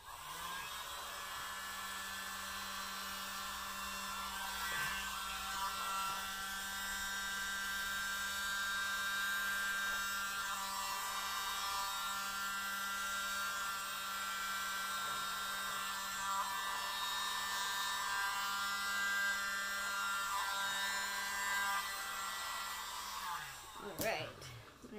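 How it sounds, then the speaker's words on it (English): A small electric air blower runs steadily over wet acrylic pour paint on tiles, a continuous whining hum that holds for about twenty-three seconds before cutting off near the end. "My little air blower"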